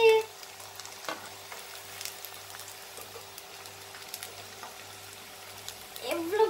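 Urad dal vada fry in hot oil, making a steady close bubbling crackle, with louder stirring or turning noises at the start and end.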